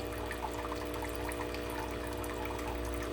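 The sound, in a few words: water flowing out of Senseo coffee maker boiler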